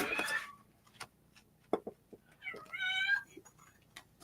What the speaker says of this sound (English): Meows because Scott's not here.